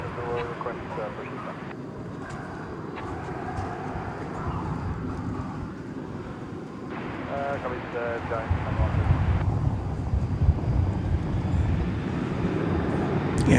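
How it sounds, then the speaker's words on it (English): An American Airlines Boeing 737-8 jet at DFW Airport at night, a broad steady roar that builds louder toward the end, with someone talking over it and some wind noise on the microphone. "That's American Flight 2267. It's a 737-8, which is going to Kansas City."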